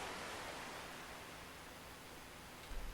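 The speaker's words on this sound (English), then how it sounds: "there's now ocean sounds when you're next to the ocean" Ocean waves wash through the video game Unturned as a faint, steady hiss of surf that holds evenly with no distinct breaks.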